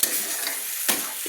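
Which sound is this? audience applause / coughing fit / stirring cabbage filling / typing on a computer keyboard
stirring cabbage filling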